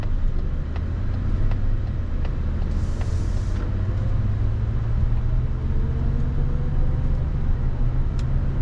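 A Mazda CX-90 plug-in hybrid accelerating hard in EV mode gives a steady low road and tire rumble with a faint tone that slowly rises in pitch. The sound is smooth and continuous from inside the cabin, with no talking.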